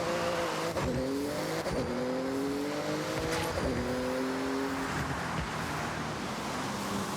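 Car driving fast in the video game Forza Horizon 6, an engine repeatedly revving up through gears with rising whines and shift breaks, plus tire noise, steady and fairly loud without talk.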